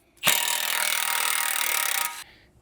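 A power tool on a 24mm 12-point socket removes a large nut at the front wheel bearing of a 2022 Volkswagen Mk8 Golf R. It gives one loud, continuous grinding burst of about two seconds, then stops.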